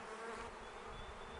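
Honey bees buzz around a nuc hive, a steady, dense hum with a faint high whine, quiet and continuous over a short span with no talk.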